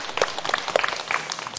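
A studio audience claps for a guest at a televised health talk, a short, moderately faint patter of scattered hands with a few sharper individual claps standing out.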